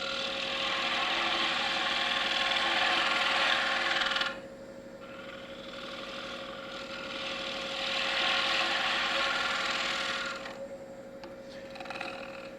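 A woodturning tool rides the bevel across the bottom of a wine caddy spinning on a lathe, a steady, close scraping hiss that drops briefly, resumes, then fades near the end, with no voices.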